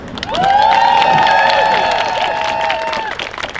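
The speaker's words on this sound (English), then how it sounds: "Let's welcome her with a strong round of applause." A crowd at a Sutter nurses' strike rally outside a Berkeley hospital roars with sustained cheering, whoops and applause. It is loud and close and swells quickly before tapering off.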